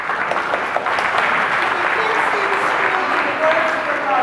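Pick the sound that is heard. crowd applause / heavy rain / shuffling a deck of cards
crowd applause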